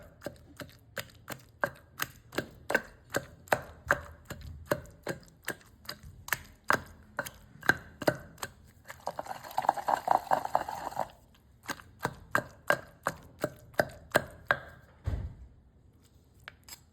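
Ridge gourd pieces are pounded finely for chutney, a steady run of sharp, close knocks with a short denser grinding stretch midway and a heavy thud near the end.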